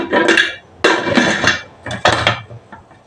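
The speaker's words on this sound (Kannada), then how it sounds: "ಇವಾಗ ಕುಕ್ಕರ್ ಮುಚ್ಚಳನ್ನು ಮುಚ್ತಾ ಇದ್ದೀನಿ" A metal pressure cooker lid is fitted and closed in a home kitchen, three or four sharp clanking metallic knocks and scrapes, close and loud, with brief pauses between them.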